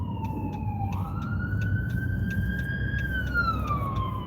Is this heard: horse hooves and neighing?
no